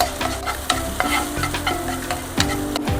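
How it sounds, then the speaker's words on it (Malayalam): Small pieces of ripe nendran plantain fry in hot oil and are stirred, giving a steady close sizzle broken by repeated scraping stirs, with no one talking. "ഇതേ എണ്ണയിലോട്ട് തന്നെ നമുക്ക് ഒരു നേന്ത്രപ്പഴം ചെറുതായിട്ട് അരിഞ്ഞതാണ് അതുകൂടി ചേർത്ത് ഒന്ന് വാട്ടി കൊടുക്കാം"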